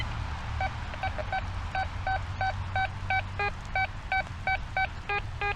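A Quest X5 metal detector in jewelry mode at maximum sensitivity, passed over a buried coin, gives out a run of short, clean electronic beeps that repeat in a quick, uneven rhythm, close and clear over a low background hum.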